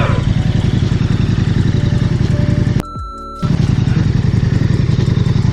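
A KTM 1290 Superduro motorcycle ridden hard off-road on dirt gives a loud, close, pulsing engine roar, broken by a brief drop-out with a clattering thump before the engine note returns.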